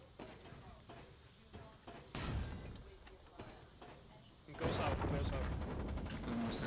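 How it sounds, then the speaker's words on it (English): Storm cannons fire in the Foxhole war game during a defence against a sea invasion: heavy, booming blasts roll in bursts, distant at first and then louder, with a player talking between them. "Oh, we had storm cannons firing as well."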